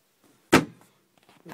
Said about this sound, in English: This is my other door.